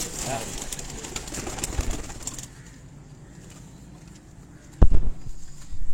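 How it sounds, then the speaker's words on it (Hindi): Pigeons cooing on a rooftop loft in Kasur, soft repeated coos with a brief flutter and knock, while people talk nearby. "ले जी ये उस्ताद जी के पुराने कबूतरों में से कबूतर है"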